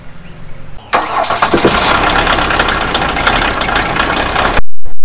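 An engine cranks and catches on a barn-find VW Rabbit pickup that sat for 25 years, then settles into a loud, steady, close-up idle with a slightly rough knock before cutting off abruptly.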